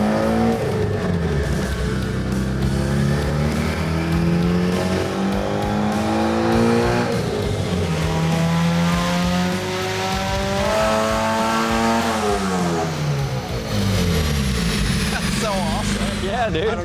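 Honda Civic hatchback rally car on a dyno, its engine revving loud and continuous through a full pull, pitch climbing and dropping in long sweeps, with voices talking over the roar.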